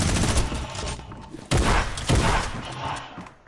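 Sharp booming video game gunshots burst out in quick succession, heavy and close, with a rolling rattle of fire between the big blasts.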